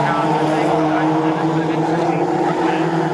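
Formula Ford 1600 race cars at Snetterton circuit roar past side by side, a loud, steady high-revving engine drone that holds for a few seconds with a commentator talking over it.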